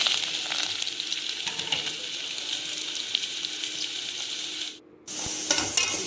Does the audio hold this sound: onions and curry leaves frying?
yes